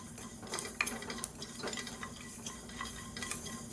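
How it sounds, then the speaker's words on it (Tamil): Mustard seeds spluttering in a hot pan while being roasted for Indian tomato pickle, faint scattered pops and crackles over a low sizzle, with an occasional clink of a utensil. "கடுகு வெடிக்க ஆரம்பிக்குது"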